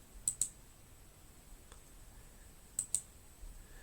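Two pairs of quick, light clicks, about two seconds apart, over a quiet background hiss, with a faint tap in between.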